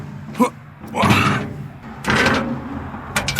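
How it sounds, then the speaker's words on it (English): A rear door latch on a dump trailer clanks and thuds shut in a few short metallic knocks, close by, with a person talking around the impacts. "Door's locked, don't need a strap."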